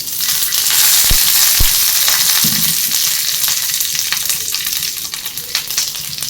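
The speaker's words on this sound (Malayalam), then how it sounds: "2 പച്ചമുളകും കുറച്ച് കറിവേപ്പിലയും കൂടെ അതിലേക്ക് ഇട്ട് കൊടുക്കാം." Two green chillies and curry leaves dropped into hot oil, bursting into a loud, close, steady crackling sizzle with a couple of sharp knocks early on and light stirring throughout, no talking.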